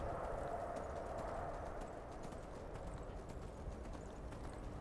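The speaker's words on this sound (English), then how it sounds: "That's quite nice just going along on horse" Steady clip-clop of a horse's hooves as it is ridden along a path in Skyrim, a continuous trotting rhythm at moderate volume with no talk over it.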